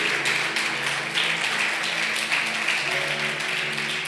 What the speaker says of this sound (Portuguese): Vamos aplaudir o Senhor bem forte outra vez.